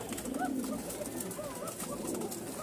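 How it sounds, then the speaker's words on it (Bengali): Pigeons from a pair of Bangladeshi high-flying stock coo steadily from a nearby loft. The low, rolling calls repeat over constant background noise. "এরকম আরো এক জোড়া কবুতর"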